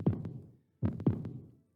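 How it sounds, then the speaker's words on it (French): A heartbeat sound effect gives two low double thumps, lub-dub, with a steady pause between them, close and clear with nothing else heard. "avec ses battements de cœur"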